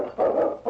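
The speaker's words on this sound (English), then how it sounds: "I wonder what he's barking at." A dog gives two quick barks, close and loud, with a short pause between them and no talking.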